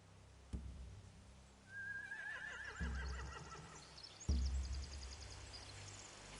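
Horses in The Walking Dead video game give a long, shrill, wavering whinny, with a few dull thuds and restless movement nearby, and no speech.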